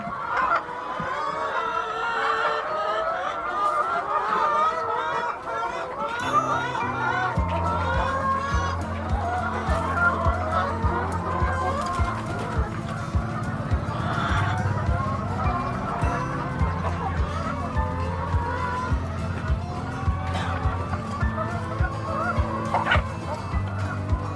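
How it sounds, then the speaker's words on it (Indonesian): Laying hens on an egg farm of about 500 birds cluck and squawk while feeding, a busy, overlapping chorus of near and far calls that rises into a denser, louder flock din partway through. "Tuh ayam-ayamnya lagi pada makan"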